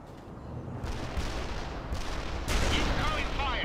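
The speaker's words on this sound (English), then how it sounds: "Incoming fire! Watch out!" Gunfire and artillery fire in the war strategy game World in Conflict: a steady rumble of shots and blasts that grows heavier partway through, with radio-style voices talking over the battle.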